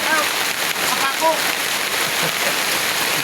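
Heavy rain falls steadily in Marinduque at a house construction site where work has stopped, a dense continuous hiss of drops with people talking over it.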